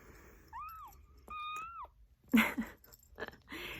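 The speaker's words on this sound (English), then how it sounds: "like kitten cries at a very high pitch" A tiny seven-week-old kitten, likely the runt of its litter, gives several thin, very high-pitched cries, close by, with brief pauses between them and some rustling movement.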